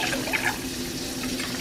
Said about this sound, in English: So you're gonna do 2 cups of water.